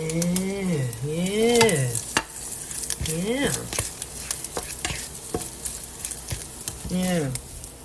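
Eggs frying in a pan with a constant close sizzle, broken by spatula scrapes and clicks, while a voice rises and falls over it at several points without clear words.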